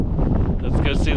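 Strong, cold wind buffets the microphone in a loud, rumbling rush throughout the brief moment, near Tromsø, Norway.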